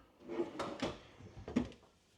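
A soft-close drawer in a 2024 Forest River Cedar Creek Cottage RV slides with a couple of soft wooden thuds and a gentle rolling rumble as it eases shut, close and fairly quiet.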